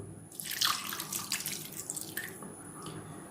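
Milk is poured into a pan of carrots for halwa, making a faint, close liquid trickle and splashing that lasts a few seconds.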